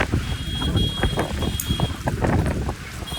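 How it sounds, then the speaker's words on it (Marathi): Strong stormy wind buffets the microphone in gusty, rumbling bursts, a constant rough roar. "खूप जोराचं असं वारा चालू इकडं"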